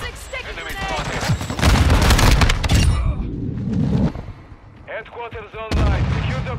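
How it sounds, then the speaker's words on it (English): Sticky grenades exploding amid heavy gunfire in a Call of Duty match on the Dome map, loud continuous booms and shots layered under excited player voices and game radio chatter. "Tossing sticky grenades!"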